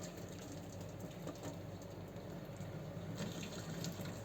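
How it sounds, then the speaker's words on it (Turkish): Water pours slowly from the spout of a yellowed teapot being cleaned, a soft, continuous trickling splash heard fairly faintly and alone throughout. "Suyu hep buradan yavaş yavaş dökün."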